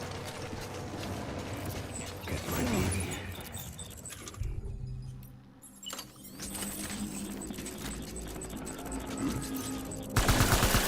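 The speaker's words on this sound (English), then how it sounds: "Assault rifle." Assault rifle fire in Death Stranding rattles in rapid bursts amid mechanical clicks and gear noises, with a brief lull midway and a loud burst at the end.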